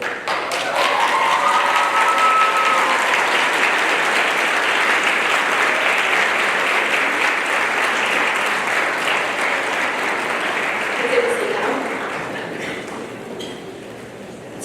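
Graduates at a high school graduation ceremony give a long standing ovation for their parents, steady dense clapping that fills the hall for about twelve seconds before tapering off, with scattered voices faintly beneath.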